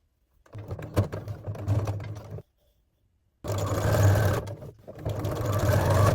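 Sewing machine stitching the sleeves onto a homemade cheap DIY top, running in two loud bursts of steady buzzing separated by a short pause, with no talking.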